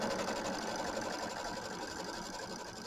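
Embroidery machine stitching the batting placement line for a Kimberbell mini quilt block, a steady, fast, even whir of needle strokes running continuously at moderate volume without any voices.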